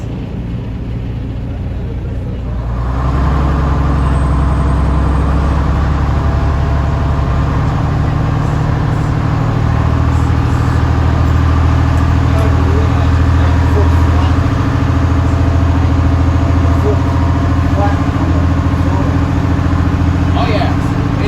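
Leyland Panther bus engine, an ex-BT vehicle with a two-speed gearbox, whirring and gurgling loudly and steadily from close by inside the bus, rising after a quieter start and running continuously throughout.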